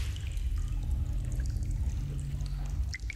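Water pours steadily inside the video game Among the Sleep, a continuous splashing stream heard up close at a fairly even level, with no one talking over it.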